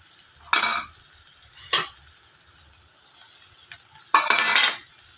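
Three bursts of stirring scrape through cooked thandi keerai (spinach) mixed with coconut in a pan, two short strokes then a longer one, close and moderately loud against a quiet background.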